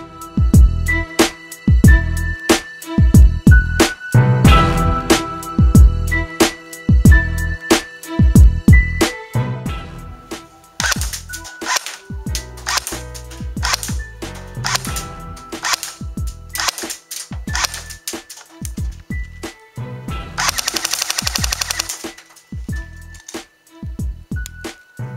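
An S&T TAR-21 Explorer airsoft rifle firing .20 BBs over a chronograph, with many sharp, closely spaced shots in bursts and singles plus mechanical clatter throughout, loud and near.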